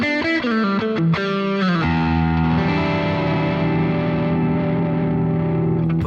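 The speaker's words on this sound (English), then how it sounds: "Now let's try some sort of breakup tones." PRS DGT electric guitar giving a slightly broken-up tone: a few quick picked chords, then one long crunchy chord left to sustain and slowly decay, loud and alone.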